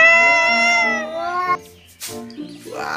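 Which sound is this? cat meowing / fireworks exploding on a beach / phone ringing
cat meowing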